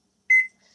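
A microwave oven gives a single short electronic beep after start is pressed, clear and close in an otherwise quiet kitchen.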